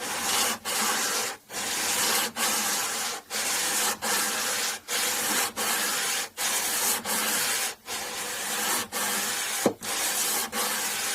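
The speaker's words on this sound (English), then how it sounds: "It may take one or two pieces of this material, the sticky back sandpaper." Acoustic guitar frets on a Daion Gazelle made in Japan are sanded with sticky-back sandpaper on a block, giving steady rhythmic rasping strokes about a second each, separated by brief pauses, close and alone.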